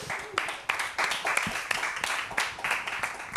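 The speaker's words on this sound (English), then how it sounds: "Big applause, ladies and gentlemen." Live audience at an Edinburgh Festival programme applauds and cheers, a dense wash of clapping with sharp bursts, close and loud, voices mixed in.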